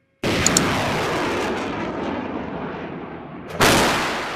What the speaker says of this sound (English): The M109A6 Paladin is the current version of the old M109 self-propelled howitzer